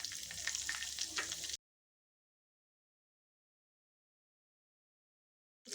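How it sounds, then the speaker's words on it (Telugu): Mustard seeds, cumin, urad dal and green chilli hit hot oil for an eggplant curry tempering, giving a brief burst of close, crackly sizzling that cuts off abruptly into silence. "ఆవాలు, జీరా, మినపప్పు వేస్తున్నా అండి. పచ్చిమిర్చి వేస్తున్నా."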